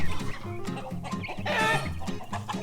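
Backyard chickens near a home coop cluck and chatter continuously, several birds overlapping at close range with short rhythmic calls and no talk.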